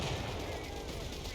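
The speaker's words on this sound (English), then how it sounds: "strafing run coming on in" Strafing-run attack in a war strategy video game, faint continuous machine-gun fire rattling at a distance under a steady low game soundscape.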